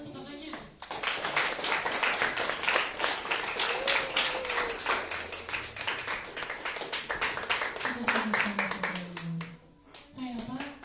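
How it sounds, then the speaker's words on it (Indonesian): Students and villagers at a KKN student community program in Desa Tangkas clap steadily in brisk, overlapping hand claps for around ten seconds, moderately close. A few voices call out briefly near the end. "Beri dulu tepuk tangan untuk kakaknya."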